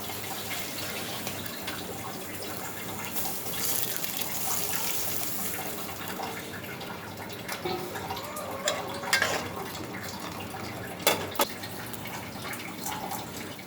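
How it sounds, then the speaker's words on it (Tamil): Water pours and splashes into a cooking pan for Thanjavur mango pachadi in a steady, moderate stream, with a few louder clinks and drips toward the end. "கொஞ்சம் கூட தண்ணி ஊற்றலாம்"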